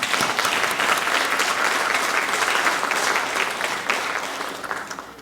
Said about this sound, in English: And so we want to applaud the parents as well.